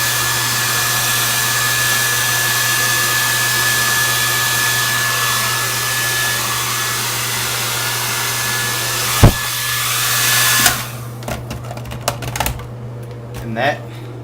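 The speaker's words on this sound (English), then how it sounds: "And that is how you blow dry your hair." A handheld hair dryer blows loud and steady with a high whine for about ten seconds, then clicks off, leaving a few knocks and handling sounds.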